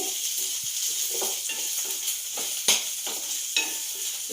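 Green chillies frying in a pan for a bottle gourd yogurt chutney, a steady close sizzle with occasional soft clinks of a spoon against the pan, no talking.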